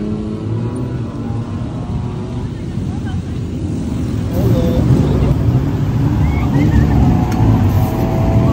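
Dense street traffic in Bangkok during Songkran rumbles close by, a steady engine drone and road noise that swells louder in the second half.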